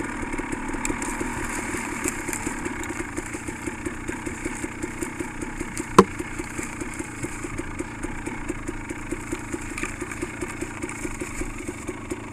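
Two dirt bikes ride a muddy trail by a lake, their engines droning steadily up close with a low rhythmic chug and a sharp click midway through.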